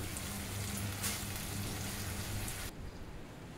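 Fish curry spice paste frying in oil gives a steady, dense sizzle with a crackling texture. It holds constant for a few seconds and then drops to a softer hiss near the end.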